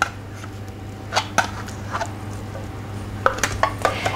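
Chopped chives stirred through a cheesy dish of grated courgette, peas, Parmesan and cream cheese, with soft scraping and a few sharp clinks of a utensil against the pan, spaced irregularly over a low background hum.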